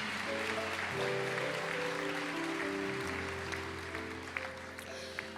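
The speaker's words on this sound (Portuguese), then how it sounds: "Aplauda a igreja." A church congregation applauds during a worship service, a soft, diffuse spread of clapping mixed with sustained music chords that hold and shift underneath, fairly quiet overall.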